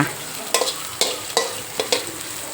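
Chili and garlic sizzle in a hot pan for a home-cooked stir-fry of baby corn and pork, with a constant fry hiss broken by quick scraping strokes of the spatula at a fairly regular pace.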